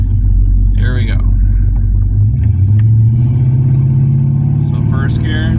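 A 1980s Ford car with an AOD automatic transmission, held in a manually selected low gear, accelerates with a loud, steady engine rumble that rises in pitch midway through, while someone talks over it.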